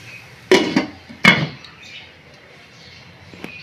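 A metal lid is set down on a pot of potato and cauliflower curry for a rohu fish stew, making two sharp, close clanks about a second apart, then quiet kitchen background.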